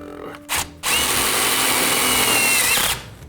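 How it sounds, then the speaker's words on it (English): A power drill drives screws into a basement renovation fixture: a short burst, a brief pause, then a long steady whirring run of about two seconds that stops abruptly. "Get a couple screws in here so it doesn't"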